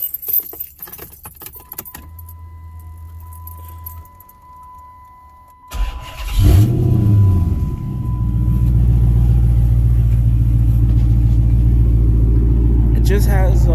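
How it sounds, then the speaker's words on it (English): A 2006 Chrysler 300 SRT8 with a muffler delete: keys jingle briefly, then the engine cranks and fires with a loud burst before settling into a steady, deep, throaty idle rumble close by. "It just has a muffler delete right now"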